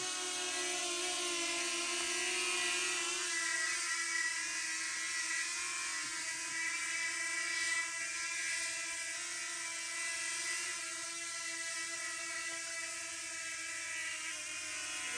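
A steady high-pitched whirring buzz of a small DJI Flip camera drone's propellers hovering nearby, constant and unbroken throughout with no voices.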